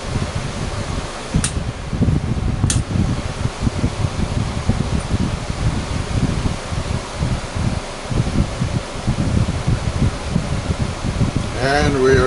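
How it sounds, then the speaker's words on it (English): An air conditioning unit, cleaned and working in a desert setting, blows air with a steady, loud, rough whoosh up close, broken by a couple of brief ticks and a short faint voice near the end. "Blowing air real good."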